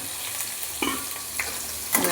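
Diced eggplant and green chilli frying with mustard in a pan: a close, steady sizzle broken by two or three quick stirring scrapes.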